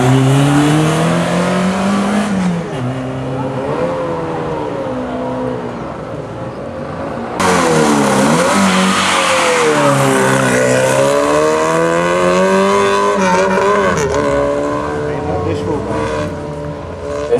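A 1985 Renault 5 Turbo 2 race car pulls away at a historic hill climb, its loud engine note rising and falling through revs and gear changes while a public address announcer talks over it throughout.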